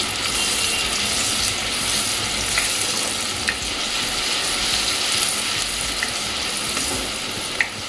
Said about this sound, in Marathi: कांदा थोडासा लाल होईपर्यंत परतवत राहायचा.